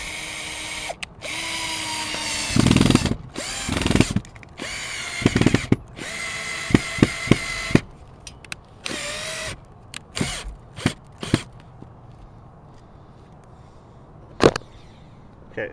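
A power drill whirs in repeated short and long bursts, loud and close, revving up and stopping several times with quiet gaps and a few clicks between runs while fitting a satellite dish mount.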